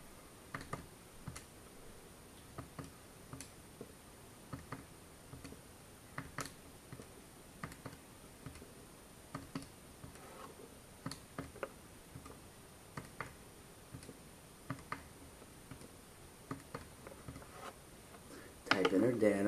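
Calculator keys pressed one after another to enter data, a steady run of small, crisp clicks with a brief louder rustle at the end.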